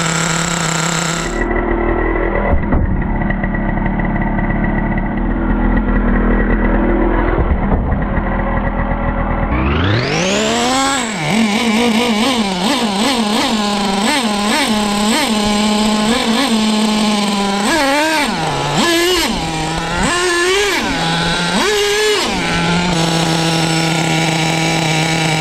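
A Traxxas T-Maxx RC truck with an OS 21 nitro engine buzzes loudly, first idling in a rough high-pitched drone and then revving with rising and falling whines as the throttle is blipped, alone without voices.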